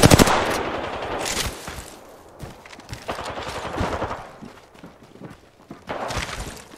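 Video game gunfire rattles in rapid automatic bursts, loud and close, broken by short gaps with scattered single shots between them.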